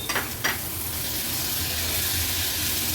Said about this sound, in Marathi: टोमॅटो पण मसाल्यांसोबत व्यवस्थित परतून घ्यायचे